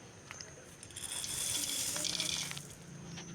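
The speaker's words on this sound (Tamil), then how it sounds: "நான் இப்படி ஒரு பவுலில் சேர்த்துன்னு அதே பவுலில் தான் தண்ணியை மலர்ந்து ஊற்றிக்க போகிறேன்." Water gushes from a tap into a bowl for chicken macaroni, a steady close splashing stream that swells in the middle and then eases off.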